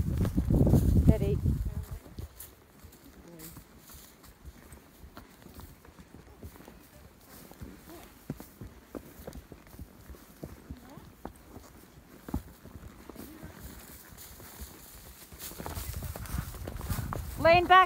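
Slow clip-clop of horse hooves walking on a trail, steady and fairly close, with wind and a voice talking at the start and end.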